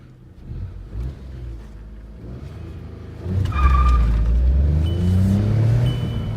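A Volkswagen Polo pulling away in first gear on a road test, engine rumbling low then rising into a loud, steady acceleration heard from inside the car, with no talking.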